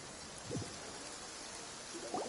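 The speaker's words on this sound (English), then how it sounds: "It's been raining" Steady rain falls in Genshin Impact, a soft continuous hiss of drops on surfaces, with a couple of brief low thuds near the start and end.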